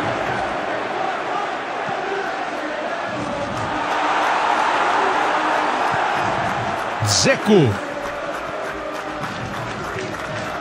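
Steady football crowd noise rumbling and swelling in PES 2021 during a Milan versus Inter match, with a commentator speaking over it throughout.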